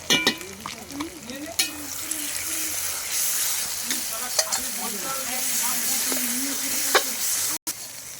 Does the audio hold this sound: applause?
no